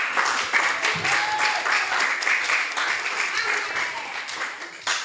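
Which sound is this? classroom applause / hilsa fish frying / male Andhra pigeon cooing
classroom applause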